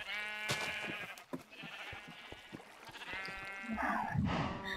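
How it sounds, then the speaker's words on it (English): Sheep in a Minecraft farm pen bleat several times in a row, fairly close and clear, some calls overlapping, with a soft background murmur and no talk. "So, as you can see, we have the sheep."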